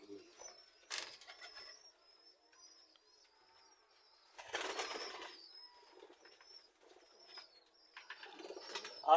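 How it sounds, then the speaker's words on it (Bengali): Pigeons in a loft holding many breeds give soft, repeated coos near the microphone, broken by short bursts of rustling and wing movement in an otherwise quiet space. "অনেক রকম কবুতর রয়েছে।"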